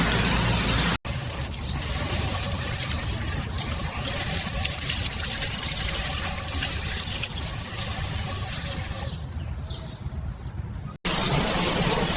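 A pressure washer wand sprays hard against a 1942 Willys Jeep to strip its old paint, giving a loud, continuous hissing water blast close by that briefly cuts out and resumes, with no voices.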